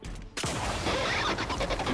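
A high fire-rate weapon in a video game lets off a fast, continuous burst of shots after a brief quieter moment, loud and close, filling the short stretch without speech.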